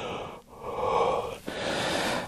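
A person breathes heavily in the cold, two long drawn inhales and exhales, close and loud with a rough airy rasp.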